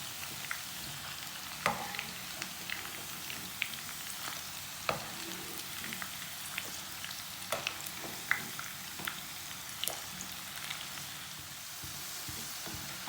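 Egg chips frying in hot oil as pieces go into the pan one by one, a steady close sizzle broken by sharper pops and crackles, no talking.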